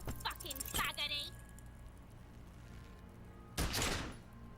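A pistol shot in the game Disco Elysium fires as a sharp broadband burst, followed by a second louder, longer blast of gunfire, with a voice talking over the game sound.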